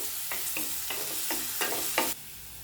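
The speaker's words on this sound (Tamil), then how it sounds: "இப்போது ஒரு பெரிய வெங்காயத்தை சின்ன சின்னதாக கட் பண்ணி இதில் சேர்த்துக்கிறேன் இப்போ வெங்காயமும் நல்லா வதங்கி வரட்டும்" A large chopped onion sautéing with ginger in a pan, a steady soft sizzle broken by several rhythmic scraping stirs of a spoon, close and alone.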